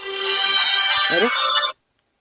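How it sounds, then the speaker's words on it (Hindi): A mobile phone ringtone plays loudly and steadily as a bright, tonal melody, then cuts off abruptly, leaving silence. "केकर घंटी बाजे।"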